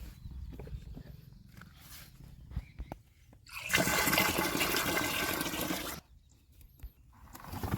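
Water gushes loudly from a tap for a few seconds in a strong, hissing rush, with quieter trickling and background noise before and after.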